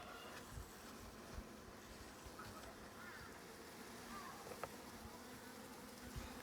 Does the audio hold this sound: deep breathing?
no